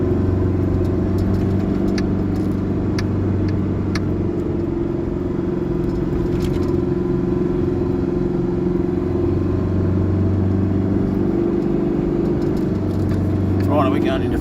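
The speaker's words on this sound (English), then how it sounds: "we're going into fourth. We're just going to push through this soft sand" A car in fourth gear pushes through soft beach sand on an Australian beach, its engine holding a steady, close, low rumbling drone throughout, with voices talking at moments over it.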